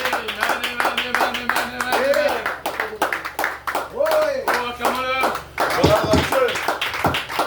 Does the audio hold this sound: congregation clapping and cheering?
yes